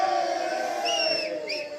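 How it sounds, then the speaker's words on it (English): Mavericks supporters at a cricket match in England give a short, loud burst of cheering and whooping, with high shouts rising over the crowd near the end. "A big cheer there from the Mavericks supporters"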